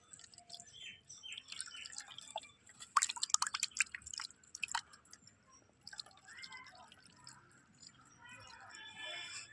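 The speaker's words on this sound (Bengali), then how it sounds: "আমার জলটা দিয়ে দিতে হবে" Water is poured out for pigeons, heard as faint, close drips and small splashes in a quiet room, with a brief cluster of brighter trickling in the middle.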